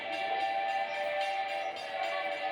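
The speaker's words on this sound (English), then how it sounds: "Love listening to the train." Small theme park train at Adventureland, a sustained whistle-like tonal sound with a steady mechanical hum beneath, moderately loud and continuous, no voices.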